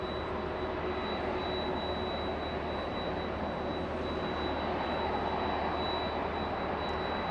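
A Delta Boeing 767 jet waiting for departure at Los Angeles International Airport, its engines producing a faint, steady, distant roar with a thin high whine, continuous and unchanging throughout with no voices.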